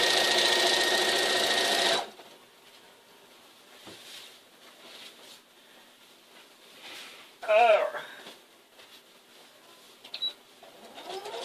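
A home sewing machine runs fast and steady for about two seconds while stitching in the ditch during free-motion quilting, then stops; quieter handling noises and a brief clatter follow.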